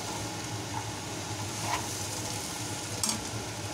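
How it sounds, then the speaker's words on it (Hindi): Fresh peas go into spiced potato and cauliflower in a pan, which keeps up a steady, soft sizzle with faint stirring scrapes and no talk. "अब हम इसमें अपने फ्रेश मटर को ऐड कर देते हैं।"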